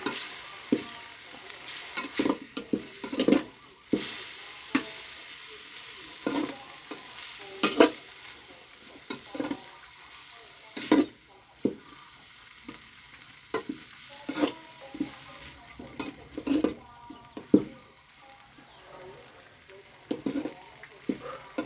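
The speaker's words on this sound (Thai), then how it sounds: "คั่วให้หอมคั่วให้หอมหอมพี่น้อง" Chili and pork stir-roasted in a pan for a Thai pumpkin pork curry, a steady close sizzle broken by repeated scraping strokes of a spatula against the pan.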